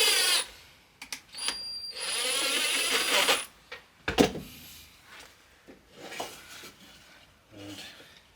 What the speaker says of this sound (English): throw in our few screws.